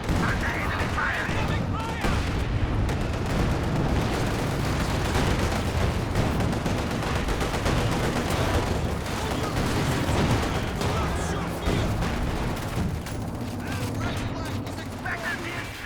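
Dense gunfire and explosions from a Company of Heroes 2 World War II strategy battle, rattling bursts and heavy booms crowding together continuously at close range, with a commentator's voice intermittently over the din.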